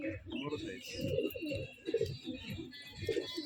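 Large pigeons cooing in a loft in Rajshahi, a soft repeated low burbling that continues through the clip, close by, with voices talking over it.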